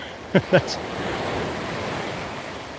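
Ocean waves and surf roll steadily at Waikiki Beach in Hawaii, a broad continuous wash with wind noise, preceded by two short louder bumps near the start.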